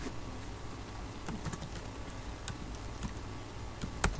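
Typing on a computer keyboard while entering a formula in a spreadsheet, with steady soft clicks and occasional sharper keystrokes forming a continuous close patter, no voices.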